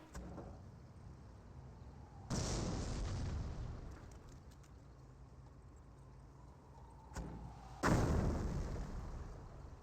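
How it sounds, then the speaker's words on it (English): Mortar shells land in a Company of Heroes battle, with two heavy, booming impacts a few seconds apart over a steady low rumble of battlefield noise. "More mortars hitting the ground."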